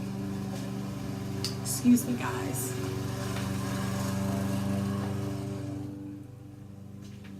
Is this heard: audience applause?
no